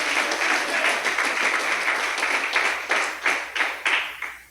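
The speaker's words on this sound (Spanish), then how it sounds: "Den un poderoso aplauso a Dios por eso." A church congregation claps during a sermon, a loud, full burst of applause that rises and falls in waves before tapering off with a few final louder claps.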